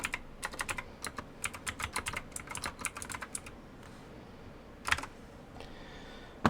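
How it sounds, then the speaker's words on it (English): Rapid, uneven typing on a computer keyboard, close and crisp, with bursts of key clicks, a brief pause, then a few scattered keystrokes and a louder tap near the end; no talking. "You're gonna have to bear with me on the typing."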